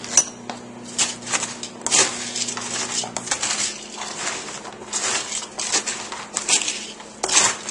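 Dry stuffing being stirred together with drained mushrooms in a pan, giving repeated scraping, crunching and clinking of utensil against metal throughout, close and fairly loud with a faint steady hum underneath.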